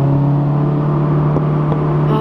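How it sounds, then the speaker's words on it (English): A loud, steady Honda S2000 sports car engine drone fills the cabin, a deep constant hum with a faint whine and no talking. "the car is just loud"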